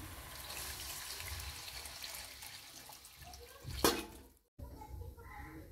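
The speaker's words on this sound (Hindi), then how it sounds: "तो अब इसमें हम पानी डालते हैं।" Water poured into a pan of moong dal and spinach curry, a steady rushing splash running for several seconds with a brief louder burst near the end, followed by a short silence and faint kitchen sounds.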